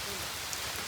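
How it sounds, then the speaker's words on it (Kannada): Steady rain falls at the start of a trek up Gadaikallu, a 1700-foot rock near Belthangady, making a continuous broadband hiss with no clear individual drops and no talk. "ಇಲ್ಲಿಂದ ನೋಡಿ ಮಳೆ ಬರ್ತಾ ಇದೆ."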